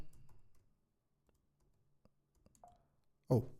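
Someone types a password on a computer keyboard: sparse, light key clicks over a quiet room, ending in one louder, sharper keystroke.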